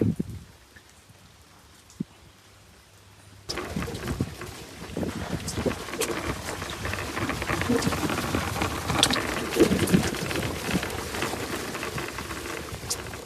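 Rain falls outdoors near hills and a water-flowing road; a quiet opening gives way to a sudden, dense, steady patter of raindrops with some wind buffeting the microphone, building slightly louder toward the middle.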